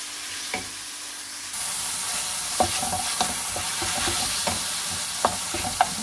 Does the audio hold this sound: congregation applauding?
no